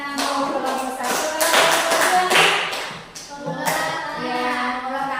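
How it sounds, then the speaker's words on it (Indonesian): A school class applauds a student group at a school garden lesson, a burst of many hands clapping in rhythm mixed with voices calling out together, moderately close and loud. "Oke, tepuk tangan untuk kelompok 1."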